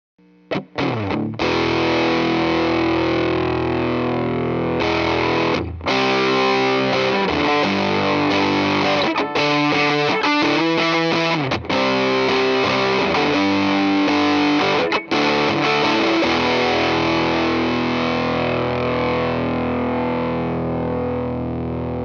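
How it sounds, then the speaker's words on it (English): An electric guitar plays through a JHS Bender Tone Bender fuzz pedal, thick and saturated, with sustained chords and choppy riffs throughout, loud and without any talking. "So we're going to start off with the JHS Bender."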